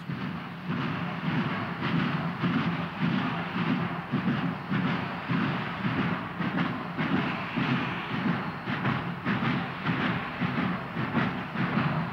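A heavy steam locomotive hauling an 11,000-ton iron ore train rumbles steadily past with rhythmic clickety-clack of wheels over rail joints, a loud continuous grinding roar throughout.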